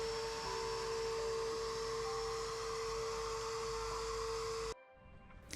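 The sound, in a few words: vacuum sucking water off a concrete pad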